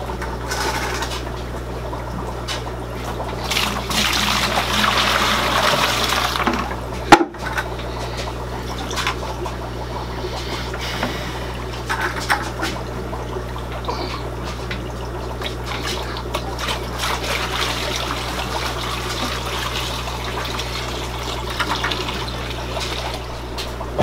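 Water trickles and pours steadily into a bucket outdoors beside a guppy tub, a constant, mid-level splashing stream lasting throughout with a brief knock partway through.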